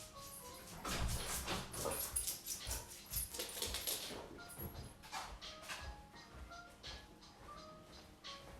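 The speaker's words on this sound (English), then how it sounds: "We can't be barking. Nobody wants to hear you barking." A scared dog barks and whimpers indoors, with several short yips and whines spread through the clip at moderate loudness amid household background noise.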